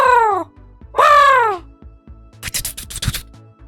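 Two long, drawn-out crow caws ring out loud and close, followed after a pause by a burst of rapid scratchy, fluttering noises; the caws sound like a human voice imitating a crow.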